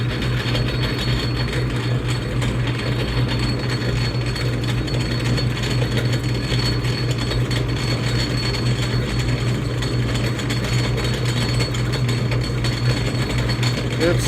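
An Atlas metal lathe runs its power feed at the slowest gear setting, giving a steady, continuous mechanical drone with a low hum and a faint gear rattle. The sound holds even and unbroken throughout, with no talking.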